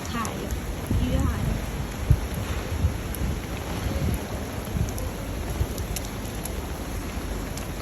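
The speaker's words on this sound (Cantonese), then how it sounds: "跟住落得好大雨啦。" Heavy rain pours steadily outdoors during a typhoon signal no. 9 storm with a yellow rainstorm warning, a dense continuous wash with gusty wind noise on the microphone and occasional louder thumps.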